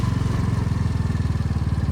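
A motorcycle pulls away after a service, its engine putting in a fast, even rhythm of close, steady pulses that stays loud throughout.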